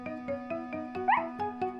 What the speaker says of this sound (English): they heard Snuffy barking and barking.